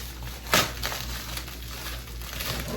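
Plastic wrap crinkles in a few short bursts, one sharper crackle near the start, then softer handling noises over a steady background hum.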